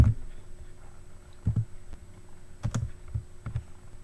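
Typing on a computer keyboard, close and fairly quiet: sparse, irregular key taps and clicks in small clusters, a couple of sharper strikes near the end, over a faint steady hum with no voices.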